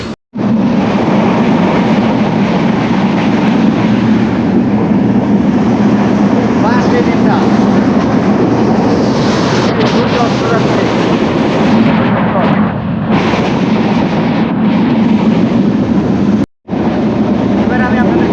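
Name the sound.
train running, inside a passenger coach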